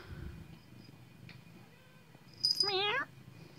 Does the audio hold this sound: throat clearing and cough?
no